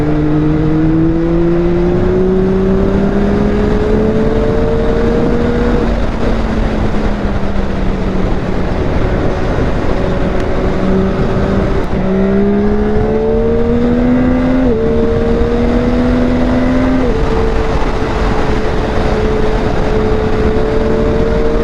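A Yamaha R9 motorcycle, run in past 1100 miles, accelerates hard through the gears with a loud, close engine note that climbs in pitch, drops at each upshift and climbs again, with wind noise and no talking.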